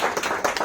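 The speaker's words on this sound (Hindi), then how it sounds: "अगर इत्तेफाक करते हैं तो तालियां बजाइए।" Audience clapping at an Urdu poetry mushaira in Milton, Canada, heard as a brief, dense burst of hands that fills the moment without any talk.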